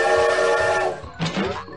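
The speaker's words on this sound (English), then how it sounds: "Steam engine." A steam engine whistle from a toddler train puzzle game sounds as a loud, sustained tonal blast, then breaks into a shorter second burst.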